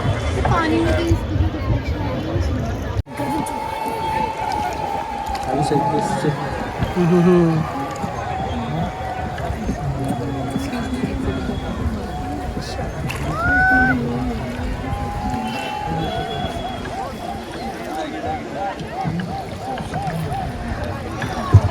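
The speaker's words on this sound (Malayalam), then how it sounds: "ബോട്ട് പല സ്ഥലത്തെത്തുമ്പോഴാട്ടോ ആൾക്കാർ ബഹളം വെക്കണേ" Passengers whoop and shout amid general babble on a boat ride across Nakki Lake in Rajasthan, with steady water and engine noise underneath and a few louder cries rising above the crowd.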